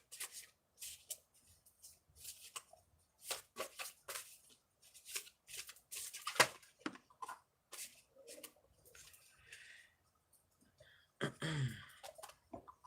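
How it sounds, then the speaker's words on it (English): Tarot cards shuffled by hand, a series of short papery riffles and slaps in irregular bursts separated by quiet gaps, close and fairly soft, with a brief louder rustle near the end. "I've been shuffling these on and off."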